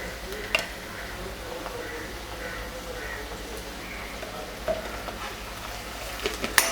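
Ginger garlic paste braising in hot oil in a pan for an Indian creamy chicken dish, a soft steady sizzle with faint stirring scrapes and a few light utensil clinks near the end.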